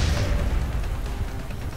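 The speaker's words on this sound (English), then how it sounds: "Grenade!" A single grenade explodes in the video game XCOM: Enemy Unknown, a heavy low boom that fills the moment and rumbles out over under two seconds.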